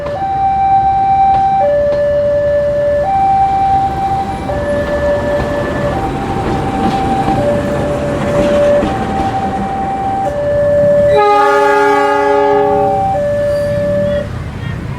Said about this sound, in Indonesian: Oke, ini mundur masuk jalur 2 digandengkan ke kereta lainnya